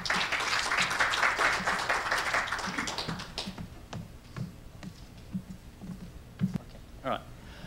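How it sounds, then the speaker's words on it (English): A short burst of applause from a conference audience, dense at first, then thinning into scattered claps and taps that fade out over a few seconds. "give him one more applause."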